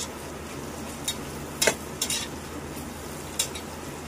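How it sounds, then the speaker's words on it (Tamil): Ingredients sizzle in a pan while browning for biryani, giving a steady frying hiss broken by a few sharp scrapes and taps of a utensil stirring. "நல்லா ப்ரௌன் ஆன அளவுக்கு வதக்கிக்கணும்."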